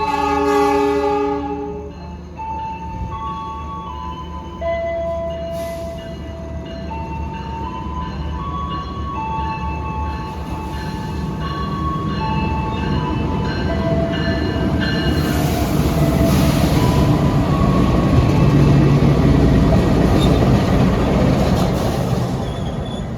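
Lodaya economy new-generation passenger train at a small West Java station after rain, opening with a loud multi-tone horn blast, then steady rumbling wagons and squealing wheels building louder as it passes close by.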